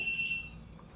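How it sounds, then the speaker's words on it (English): A home security alarm triggered by an opening door or window sounds a thin, high electronic tone that holds for about half a second, quiet beneath a steady room hum. "Sorry, that's my house alarm. Someone opened the door or the window."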